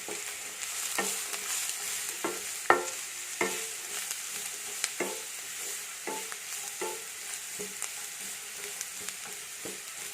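Sliced onions sauté in oil for a dhaba-style chicken curry, a spoon stirring through them in a run of scraping strokes over a steady, fairly soft sizzle, with no voices.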